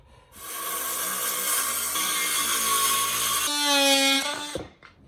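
A drop saw cuts pieces of wood for a workbench, a loud steady motor whine running several seconds, then rising in pitch as the blade spins free before winding down and stopping.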